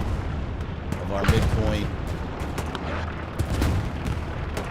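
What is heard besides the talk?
artillery strikes exploding in the video game Hell Let Loose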